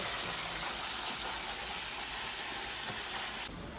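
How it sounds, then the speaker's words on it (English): A roast deep frying in hot oil in a home kitchen, a steady broadband sizzle and crackle running continuously at close range, easing slightly near the end. "I'm still doing the deep fry with the roast"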